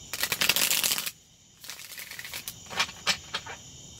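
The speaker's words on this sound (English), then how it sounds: "One shuffle." Tarot cards riffle-shuffled up close in quick bursts, a long crisp shuffle followed by a pause and several shorter flicks and taps.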